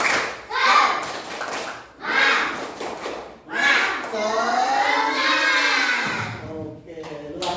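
Schoolchildren in a classroom do a rhythmic group spirit clap, bursts of claps and shouted chanting in repeating waves, with a teacher's voice leading in between.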